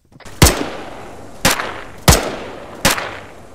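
Arma 3 in-game gunfire: four loud, sharp single shots close by at irregular intervals of roughly one second, each with a short echoing tail and no voices.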